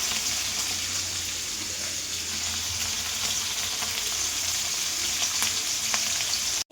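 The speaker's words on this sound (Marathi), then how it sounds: "तर मी आता थोडी मच्छी घेतो तळून" Indian mackerel (bangda) fish frying in a pan, a loud, steady crackling sizzle of hot oil that runs unbroken and close up before cutting off abruptly at the very end.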